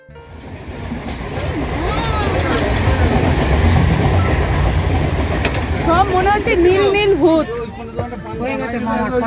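A train rumbles loudly past a railway crossing in Nadia district, steady rolling noise with clickety-clack wheel beats, while a crowd chatters and voices call out over it.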